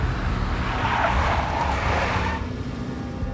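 A big black Mercedes drives by in the Max Payne video game, its engine hum and tyre noise swelling and then fading after a few seconds, with no talk over it.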